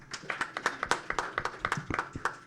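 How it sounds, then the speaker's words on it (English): Scattered audience clapping at a 2013 Cincinnati city council candidates forum, a small crowd giving brief, uneven applause with quick overlapping claps. "You can applaud."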